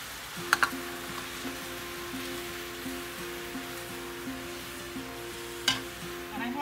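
Food sizzles gently in a hot pan while a utensil scrapes and clinks against it a few times, close up.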